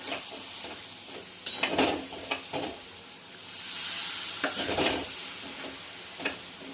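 Hot oil sizzles steadily in a pan of paneer bhurji, with a burst of louder hissing as a little water hits it, plus a few stirring clinks.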